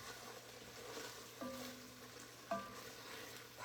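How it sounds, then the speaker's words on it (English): Chicken frying in bacon grease in a pan during a braised chicken recipe, a steady soft sizzle with a couple of brief stirring clatters, no voices. "everything is cooking in like bacon grease"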